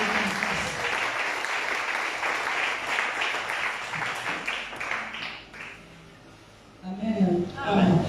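A church congregation breaks into sustained, dense applause at a worship service, the clapping steady and close before fading, then a voice starts speaking near the end.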